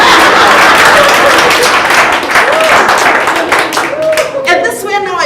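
An audience at a health and wellness seminar breaks into loud, sustained clapping that fills the room for several seconds, with a few voices calling out near the end.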